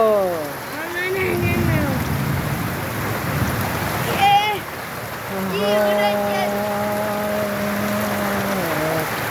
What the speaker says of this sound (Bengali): দেখতে থাকুন বৃষ্টি কোথায় গিয়ে থামে।